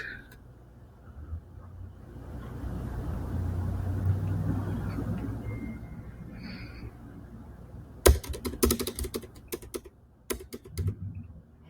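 Typing a command on a computer keyboard in a quiet room, rapid clustered key clicks arriving in short close bursts after several seconds of low background hum.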